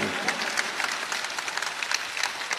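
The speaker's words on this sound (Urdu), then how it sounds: "ایک مرتبہ زوردار تالیاں بجا دے، پورا پنڈال تالیاں بجا دے" An audience under a pandal at an Independence Day gathering claps in scattered, uneven bursts, moderately close and continuous for a couple of seconds with no speech over it.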